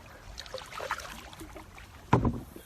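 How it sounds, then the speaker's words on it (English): Canoe paddling upstream on the Wekiva River, soft water swishes from the paddle strokes, then a louder splash near the end, quiet wind in the background. "I think I've paddled far enough upstream going towards Rock Springs"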